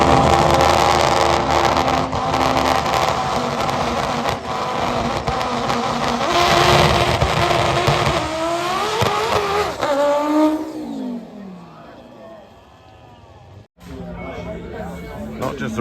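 A big-turbo VW Golf Mk5 20v at a European drag racing final roars loudly at full throttle for about ten seconds, then gear changes and fading engine note as it pulls away, with a brief sharp cut near the end.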